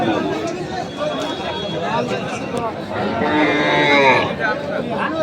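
Bulls low repeatedly at a busy livestock market in Nilphamari, a steady crowd chatter surrounding the drawn-out bellows, which swell loudest toward the end.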